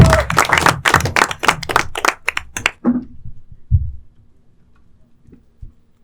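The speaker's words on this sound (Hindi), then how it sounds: "एक बार जोरदार ताली" Loud audience clapping and cheering greet a stand-up comedian at a comedy show, a burst of claps for about three seconds that quickly thins into a few scattered claps before the room falls quiet.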